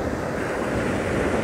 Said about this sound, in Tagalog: ayoko na masyadong malakas yung hampas ng alon